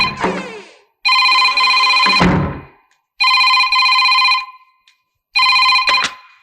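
A landline telephone rings loudly in a Tamil horror film, with three long bursts of bright electronic ringing separated by short silences, close and alone.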